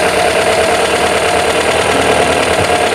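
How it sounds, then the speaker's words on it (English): Volvo 544 engine with SU carburetors idling after the piston lift check, a close, loud, steady idle hum with an even rapid pulse and no talk. "Idle raised and then it went back to normal."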